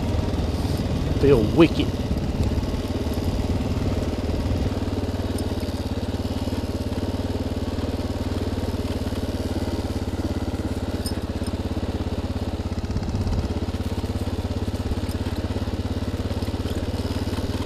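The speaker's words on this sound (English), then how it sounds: "with the dirt bikes riding trails" Dirt bike engine droning at a steady mid pitch on a forest single-track trail, a continuous near rumble throughout, with a brief voice speaking near the start.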